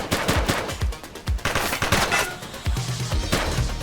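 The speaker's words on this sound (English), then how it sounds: "She's shooting!" Rapid bursts of gunfire from a police shootout in the video game The Precinct, a loud cluster of sharp cracks and machine-gun rattles repeating over several seconds with no talk.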